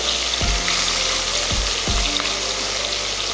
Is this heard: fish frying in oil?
yes